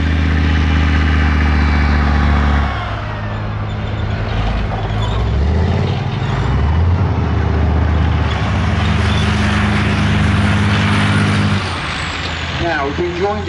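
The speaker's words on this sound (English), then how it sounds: "Now you can see how mobile those Leopards are" A Leopard tank with an MTU diesel engine moving around an arena show, its loud engine droning and revving close by with steady low hum and shifting pitch, a commentator talking over it.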